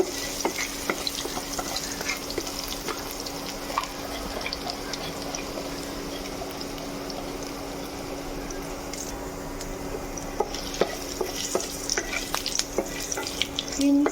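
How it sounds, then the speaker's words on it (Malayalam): Crushed ginger, garlic, cinnamon, cloves and cardamom fry in hot oil with a steady, even sizzle, with light stirring clicks and a few sharper scrapes toward the end; nobody speaks. "ഈ എണ്ണയിലേക്ക് നമുക്ക് ചതച്ചു വച്ചിരിക്കുന്ന ഇഞ്ചിയും വെളുത്തുള്ളിയും പട്ടയും ഗ്രാമ്പും ഏലക്കയും ഇട്ട് കൊടുക്കാം ഇട്ടിട്ട് ഇളക്കി കൊടുക്കാം"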